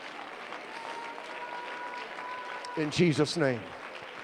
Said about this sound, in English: clap your hands to the Lord and give him praise right now